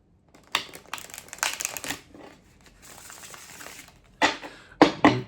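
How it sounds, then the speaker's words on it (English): Close, crisp riffles and flicks of tarot cards come in short bursts with softer rustling between them, ending in two sharp snaps, with no voices. "One more shuffle."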